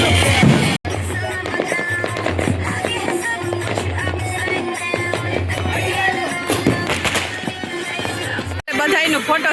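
Firecrackers burst again and again during the Vasi Uttarayan kite festival in Ahmedabad, with loud pops and crackles close by, mixed with crowd noise and people talking.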